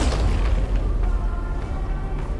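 Deep rumbling boom from an explosion in the video game Bramble: The Mountain King, a sustained low roar with scattered crackling bursts that fills the whole moment at steady, fairly loud level, with no talking.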